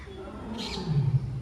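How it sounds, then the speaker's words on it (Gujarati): A low, rumbling lion roar swells up near the end at Sakkarbaug Zoo, rough and throaty against a murky background hum. "સિંહ રાયડું નાખે"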